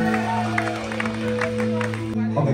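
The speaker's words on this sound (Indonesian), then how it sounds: "Tepuk tangan dulu buat Vincos dong." An audience applauds at Vincos' 19th anniversary event at Vin Plus Arcadia Senayan, moderate clapping and crowd noise mixed with steady music and a voice.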